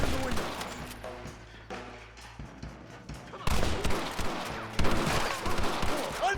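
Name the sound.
gunfire in a shootout, video game Red Dead Redemption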